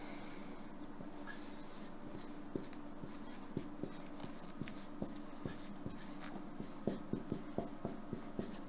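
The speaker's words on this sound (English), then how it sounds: "I'll just write it in points." Pen or pencil writing by hand on paper during a science explanation of dark energy, a run of quick scratchy strokes and taps close to the mic, fairly quiet with faint room noise behind.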